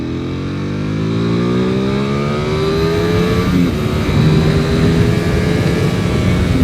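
A Ducati V4R motorcycle engine on road or track climbs through its revs in a rising howl, then drops and builds again, loud and close throughout with wind noise and no speech.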